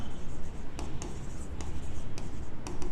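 Pen scratching on paper while writing out an accounts passbook balance, a close series of short scratchy strokes in an uneven rhythm, with no talk over it.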